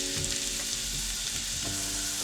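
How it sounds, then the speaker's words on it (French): Shiitake mushrooms fry in sunflower oil in a pan over medium heat, giving a close, constant sizzle and crackle with the light scrape of stirring, no voices. "Versez 2 cuillères à soupe d'huile de tournesol dans une casserole sur feu moyen et versez les champignons parfumés,"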